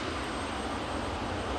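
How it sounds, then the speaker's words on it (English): Air Force One, a large jet airliner, lands at Stansted Airport in Essex at night, its engines a steady, broad roar that fills the whole stretch without a break. "That's the plane landing tonight at the airport just outside Essex."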